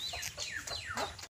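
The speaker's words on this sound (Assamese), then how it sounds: "দেখিছেনে মুৰ্গী সোপা একদম কেনেকৈ পূৰা পলাইছে" Several chickens cluck and squawk in quick bursts as they scurry away on a village homestead near a pond with ducklings, close and loud with no talking.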